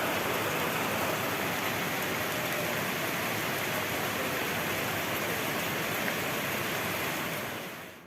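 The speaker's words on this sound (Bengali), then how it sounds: "মুসলধারে বৃষ্টি হয়ে যাচ্ছে" Heavy rain pours down in a dense, steady hiss with no pauses, loud and constant throughout.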